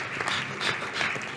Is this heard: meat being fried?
no